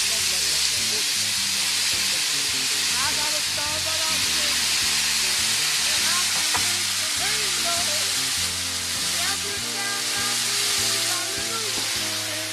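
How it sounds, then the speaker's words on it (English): Brussels sprouts with soy sauce sizzle loudly in a pot, a dense, steady hiss that carries through the whole stretch with faint tonal sounds beneath it. "Listen to the sizzle."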